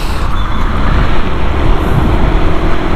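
Yamaha Aerox 155 scooter riding on a road, with a steady low engine drone and wind rumble under throttle, loud and continuous and dominated by broadband road and wind noise.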